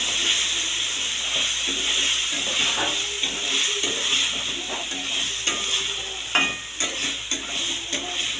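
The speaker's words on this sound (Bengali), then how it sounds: "এভাবে কয়েক মিনিট কষিয়ে নেব।" Spice paste with Kashmiri chilli powder is stir-fried in a pan for a soybean and potato curry, giving a steady close sizzle with intermittent scraping stirs that grow more distinct toward the end.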